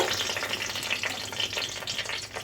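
A bay leaf and a dried chili sizzle in hot oil in a wok, giving a steady, crackling fry that stays close and fairly soft, with no voices.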